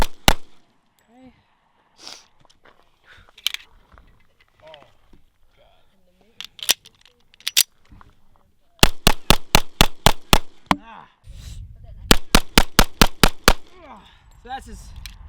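Pistol fired rapidly at a shooting range, two quick strings of sharp, evenly spaced close shots following scattered single shots, with someone talking between them.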